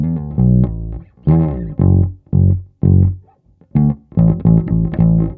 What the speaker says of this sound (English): let's try right now that I put a little bit of compression